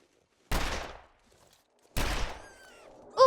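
Two sharp gunshots from a rifle in the survival game The Long Dark, about a second and a half apart, each ringing out loud with a fading tail, followed by a brief high chime-like game sound.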